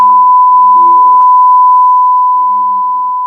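A long, steady censoring bleep tone runs almost unbroken over courtroom trial testimony, loud and constant, with muffled fragments of a voice talking faintly beneath it.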